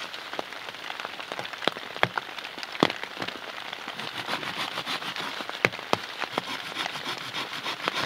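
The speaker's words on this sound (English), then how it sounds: "Now it started slacking up a little bit on rain" Rain falls steadily in a wilderness setting, a dense hiss of drops close by with scattered sharper pattering taps and splats on nearby surfaces throughout, with no voices.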